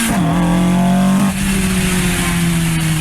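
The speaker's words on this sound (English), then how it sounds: "Who's this badass with a 1998 4-speed automatic Toyota MR2 GT ripping down Highway P?" A 1998 Toyota MR2 GT with a four-speed automatic rips down a highway, its engine loud and close, holding a steady revving drone that shifts pitch partway through as it speeds along.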